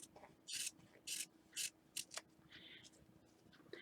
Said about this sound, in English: hold my lining up out of the way while I go ahead and trim that outer fabric off